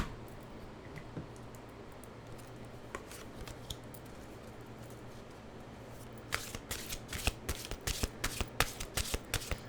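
A deck of affirmation cards is shuffled close by, soft isolated card flicks at first, then a rapid flurry of crisp riffling taps in the last few seconds, with no talking.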